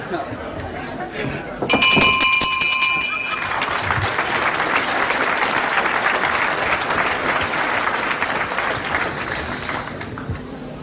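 A wrestling crowd in a hall applauds a good move, with brisk, sustained clapping and chatter, preceded by a sharp ringing bell and clanking.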